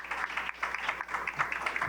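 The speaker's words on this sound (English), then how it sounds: "Again, just another round of applause." An audience claps at an evening event honoring a performer, a short burst of dense applause with close, uneven clapping.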